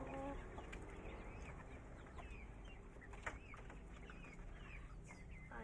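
Chickens cluck and chatter steadily at a distance in a farm coop also holding quail, Brahma chickens and pigeons, with scattered bird calls over a constant low background hum.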